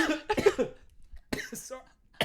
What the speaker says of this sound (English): just a cough break